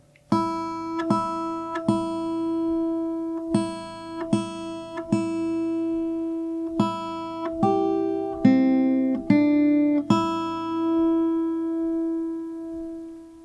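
Guitar fingerpicking exercise on the first and second strings: clear single plucked notes ring out one after another at a slow, even pace, close and moderately loud, with no voices.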